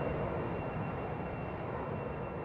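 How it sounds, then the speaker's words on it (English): A jet airliner flies in the video game Tomodachi Life, a steady broadband engine roar that holds at an even loudness for the whole stretch, with no talk over it. "Wow, the romantic jet airline."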